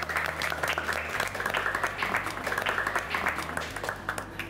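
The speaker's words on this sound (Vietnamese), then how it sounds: "Một tràng pháo tay cho tất cả chúng ta." A group gives applause at a youth football training session, steady close clapping from many hands lasting several seconds, with no one speaking over it.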